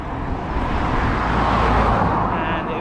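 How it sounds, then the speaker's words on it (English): A noisy truck passes on a rural road in Connemara, Ireland, a broad rumbling roar that swells toward the middle and eases off, heard alone without speech. "A noisy truck go by"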